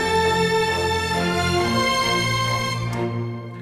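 Large orchestral Christmas arrangement with horns layered over repeated cello notes, a full sustained brass-and-strings sound that swells steadily and fades near the end.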